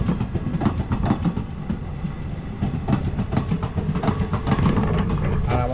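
A passenger train rolling past a stationary train at a small railway station, with loud, close, rhythmic clickety-clack of wheels over rail joints running steadily throughout.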